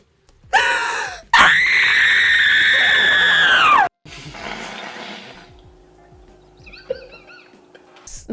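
A woman lets out a long, loud, sustained scream of frustration, preceded by a shorter cry, then breaks off into breathy sounds and faint background noise.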